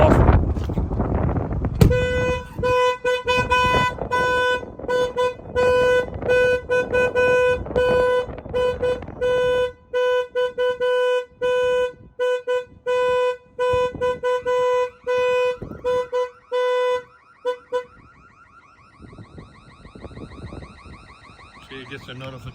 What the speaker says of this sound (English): Bang on the window, the alarm will go off.